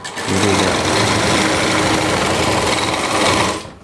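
Sewing machine stitching lehenga panels for a Rajputi suit, a steady loud rapid whirring hum running almost the whole time before stopping abruptly at the end.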